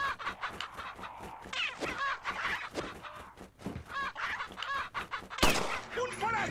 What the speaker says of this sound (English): I didn't mean to shoot the chicken.